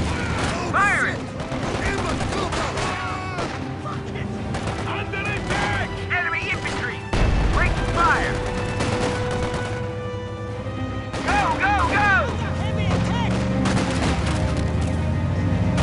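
Continuous battle din from the WWII strategy game Company of Heroes 2 in an American skirmish match, with dense machine-gun and rifle fire, heavy booms and rumbling explosions under shouted unit voice lines.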